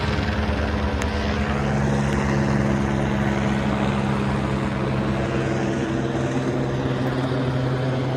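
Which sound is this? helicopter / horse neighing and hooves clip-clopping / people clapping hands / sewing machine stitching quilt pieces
helicopter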